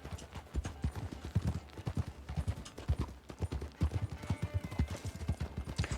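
A palomino horse walks in a video game roleplay set in 1899, with steady, soft clip-clop hoofbeats in an even rhythm, moderately quiet and close.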